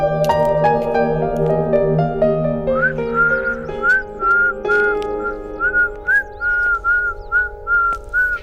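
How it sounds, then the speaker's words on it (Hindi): A person whistles a tune over a sustained musical backing, with a steady run of repeated short rising whistle notes that stand clearly above the accompaniment. "तुम मुझे बिना देखे ही सीटी मारने लगी।"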